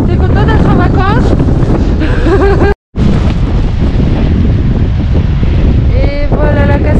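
Strong wind at Lake St Clair, Australia, near a waterfall, roaring loudly and steadily across the microphone and nearly drowning out faint voices, with one brief dropout partway through.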